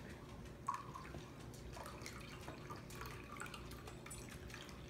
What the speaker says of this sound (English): So let's add the cold water now.